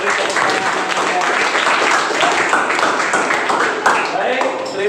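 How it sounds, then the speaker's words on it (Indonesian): Classroom applause from a group of students, a dense, loud patter of clapping that holds steady for several seconds, with voices mixed in. "Oke, bagus sekali. Beri tepuk tangan."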